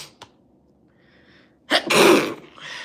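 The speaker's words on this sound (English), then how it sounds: "I feel a sneeze." One loud, close sneeze bursts out after a short quiet pause, with a faint sharp intake of breath before it.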